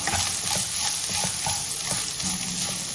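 Grated coconut and cashews sizzle steadily in hot oil in a pan for coconut rice, with soft repeated scraping of a spoon stirring them throughout, close and continuous with no talking.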